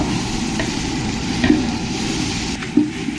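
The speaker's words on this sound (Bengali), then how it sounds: "এবার দিয়ে দেব আদা রসুনের পেস্ট পেস্টটা দিয়ে ভালো করে আমি পেঁয়াজের সঙ্গে মিশিয়ে নেব একসঙ্গে কষিয়ে নেব" Onions and ginger-garlic paste stir-fried in a pan for a vegetable biryani, with a steady close sizzle and occasional scraping stirs of the spatula, no talking.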